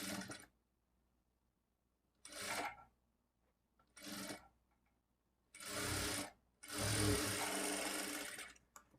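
A sewing machine stitches a lining blouse in short separate bursts of motor whir with quiet pauses between them, the last two runs longer and louder.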